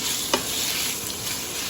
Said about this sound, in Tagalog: i-stir fry lang po natin